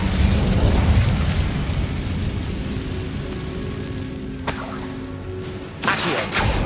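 A fire spell cast in the video game Hogwarts Legacy, a broad rumbling whoosh of flame that swells and fades, followed by a couple of sharp bursts near the end.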